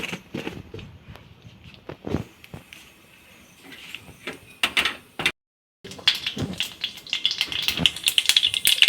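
Mustard seeds spluttering in a little hot oil, a scatter of irregular pops and crackles that thicken into dense, busy sputtering toward the end, close and fairly loud.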